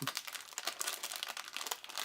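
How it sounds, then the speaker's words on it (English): A small plastic bag from a toy car set's box is crinkled and handled up close, a steady dense rustle for about two seconds with no voices. "it's a little plastic bag like you get."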